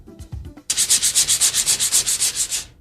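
Sandpaper rubbed back and forth against a surface in about fourteen quick, even strokes, close and crisp, following a few soft knocks at the start.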